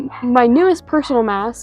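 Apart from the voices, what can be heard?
dog barking in the house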